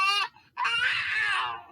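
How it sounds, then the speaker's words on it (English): A baby's wailing cry played back as a recording through a phone speaker, one short cry, a brief gap, then a longer sustained wail, thin and trebly. "It's a baby, isn't it?"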